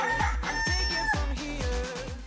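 A human voice imitates a rooster's crow, a loud, close, drawn-out cock-a-doodle-doo with several wavering, rising and falling pitched syllables, heard alone.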